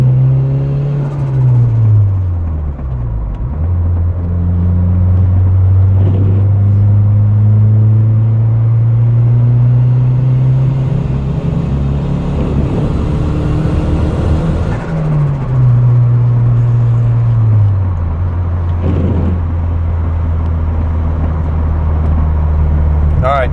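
A turbocharged Honda Civic running on 10 pounds of boost with a 5-pound wastegate spring idles and revs up close, its low engine drone rising and falling in pitch, loud and continuous.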